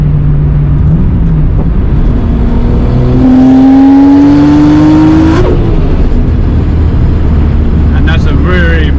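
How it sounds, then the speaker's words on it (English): Turbocharged engine of a Toyota Supra pulling hard in 4th gear, a rising drone climbing steadily in pitch over several seconds before dropping off as it comes off the throttle, with talk over the engine throughout. "Just love that turbo sound"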